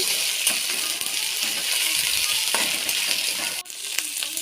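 Ginger, garlic and chili paste fries in a pan with a steady, bright hiss, while occasional scrapes and clinks of stirring break through close up.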